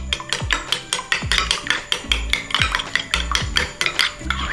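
An egg beaten with a spoon in a bowl gives rapid, rhythmic clinking taps against the side, loud and close, with a brief scraping swirl between strokes and no talking.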